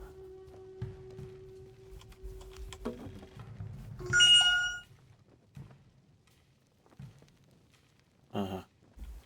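A phone gives two short, bright message-notification chimes, a few seconds apart, against a quiet indoor background with faint low rumbles.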